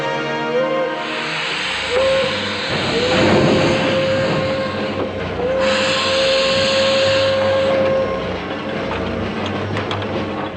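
A steam locomotive at full speed in an 1850s-era train chase, its steam hiss and rumbling rail noise loud and continuous, with a long steam whistle sounding several times over the roar.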